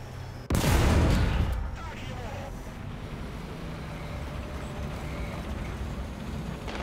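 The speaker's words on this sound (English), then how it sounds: "I don't know why he keeps firing at me." An enemy tank cannon fires in War Thunder, one loud close blast with a rolling decay over about a second, then a steady low engine and wind rumble.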